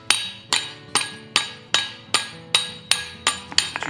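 Hot steel is hammered against the side of a cutoff hardy on an anvil while forging a fireplace poker. The sharp metallic blows ring loud and close, about ten strikes in a steady rhythm with a few quicker taps at the end.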